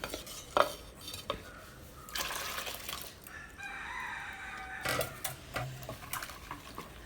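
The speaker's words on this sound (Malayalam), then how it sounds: "അപ്പോൾ അതൊക്കെ ഇളക്കിക്കാണ്ട് ഞാൻ അതിലേക്ക് ഒഴിച്ച് കൊടുക്കുകയാണ്." Homemade dishwashing liquid being stirred and poured into a container, with scattered clinks of a utensil against the vessel and a stretch of steady liquid pouring, close and moderately quiet with no talk.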